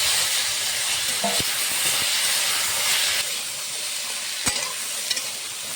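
Drumstick stalks hiss and sizzle in hot oil with bay leaf, whole panch phoron and green chillies, a steady steam-like frying noise with a few sharp clinks and scrapes of stirring, fairly close and without speech.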